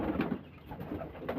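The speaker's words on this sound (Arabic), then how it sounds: "طبعا اللي حواليا ده صوت الحمام" Pigeons in a coop coo softly nearby, repeated low throaty calls rolling in two or three bursts over a quiet background.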